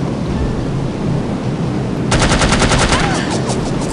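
Rapid automatic gunfire in No One Lives Forever breaks in halfway through over a steady roar of wind during a skydiving sequence, a fast regular burst of shots that continues to the end.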